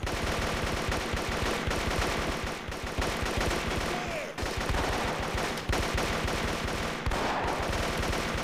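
Rapid gunfire in the video game Marine Sharpshooter 2, dense continuous bursts of shots close and loud, with brief pauses between volleys.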